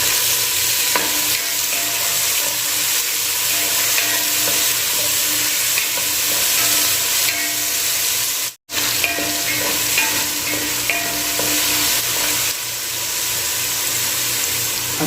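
Tomatoes being sautéed with ginger, garlic and onion in a pan for a Filipino mung bean dish, with a steady close sizzle and frying hiss, stirring scrapes throughout and a brief drop to silence partway through.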